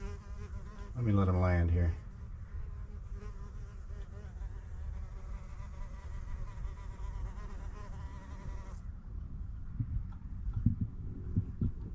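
A bee resembling a honeybee buzzes loudly and close for about a second near its little mud nest beside a 1982 Ford F150 oil pan, then quieter background sound follows while a person talks.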